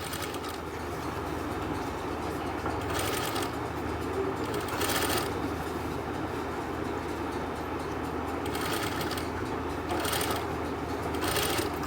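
A sewing machine stitches a Chinese collar with a continuous low mechanical hum and rapid rattle, and faint periodic brighter bursts of rustling cloth occur over the steady run.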